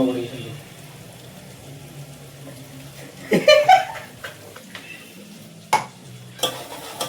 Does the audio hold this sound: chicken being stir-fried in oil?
yes